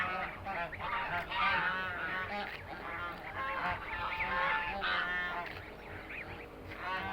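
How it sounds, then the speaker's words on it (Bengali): Domestic geese raised at a village home, honking loudly and repeatedly at close range, several birds calling over one another in a continuous chorus. "এই সকালে আপনাদের জন্য নিয়ে এসেছি রাজহাঁস"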